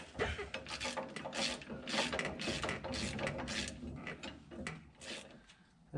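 Hand ratchet snugging the bolts on an instant tire chain kit mount on an International 7400 truck, a run of quick close clicking bursts with metallic rattles, steady and loud throughout.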